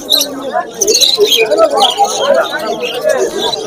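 Black and white Java sparrows chirp and tweet among other caged birds at a busy pet market, overlapping calls scattered throughout while someone talks over them.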